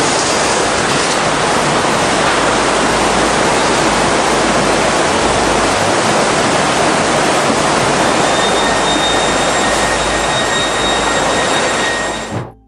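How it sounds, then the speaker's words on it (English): Tsunami waves surge onto a beach in Thailand during the Indian Ocean earthquake disaster, a constant, loud roaring wash of churning water with no pause, continuous at full strength before cutting off abruptly at the end. "only to be chased down by a churning wall of water"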